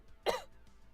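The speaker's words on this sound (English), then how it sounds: "That was a big old cough." A single loud, sharp cough from one person, close and abrupt, lasting a fraction of a second within an otherwise quiet moment.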